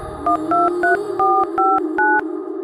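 A telephone number is keyed in on a phone keypad, producing seven distinct touch-tone beeps in a steady rhythm, clear and close with no speech.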